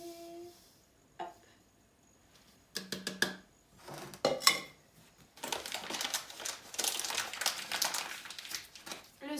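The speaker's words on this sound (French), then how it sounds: "j'ai besoin de 100 g de sucre que je vais mettre dans mon saladier" Sugar, 100 g of it, is poured into a mixing bowl for a chocolate cake, a dry grainy hiss of crystals running in after a few clinks and taps of the bowl and packet, with no talk.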